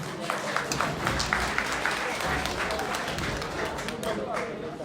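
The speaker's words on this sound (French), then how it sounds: "Vos applaudissements pour les accompagner." Audience applause at a political rally for candidate Issa Diawara, steady mid-loud clapping from a crowd sustained throughout, mixed with crowd murmur and some voices underneath.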